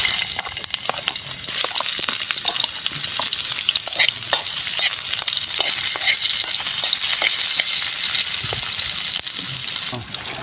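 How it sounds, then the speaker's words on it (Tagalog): Lokan mud clams with chili sizzle hard in a hot pan, a loud continuous frying hiss with stirring scrapes and clatter throughout, ending with a brief drop. "Bali gigisay na po natin."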